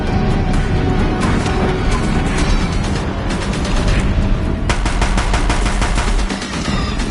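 Deathbringers in a video game pour sustained automatic gunfire onto a bridge, loud, dense rapid bursts with booming impacts running continuously, no pause for the whole stretch.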